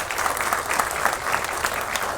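Audience applause at a public gathering, a sustained, dense clapping that stays loud and even throughout.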